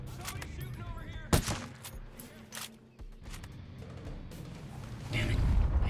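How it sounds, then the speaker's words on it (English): Gunfire in the tactical shooter Ghost Recon Breakpoint: scattered shots and sharp cracks with a louder burst near the start, set against a busy, rumbling game background. "Somebody's shooting over here."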